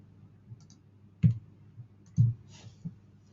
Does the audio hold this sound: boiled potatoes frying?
no